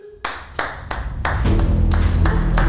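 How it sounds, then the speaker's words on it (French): Sharp, close hand claps start a few at a time and quickly build into steady applause for an arriving guest, with a low musical backing entering partway through. "Applaudis."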